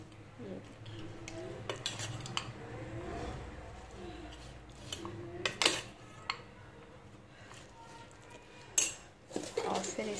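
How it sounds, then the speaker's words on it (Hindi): Pasta chaat is mixed with ketchup in a bowl, a spoon scraping and clinking against the dish in irregular strokes, fairly quiet, with a few sharper knocks. "थोड़ा सा डाल देंगे इसमें केचप, फिर सारों को मिक्स कर देंगे, सबको मिक्स कर देंगे।"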